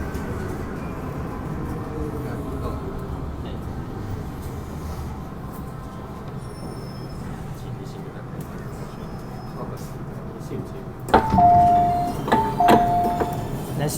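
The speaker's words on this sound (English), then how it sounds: "just to enjoy a little bit of the motor sound because they are gonna be withdrawn very soon" An MTR Island Line first-generation M-Train in Hong Kong hums steadily with a low traction motor drone throughout, then louder whining and clunks near the end as it slows or doors operate.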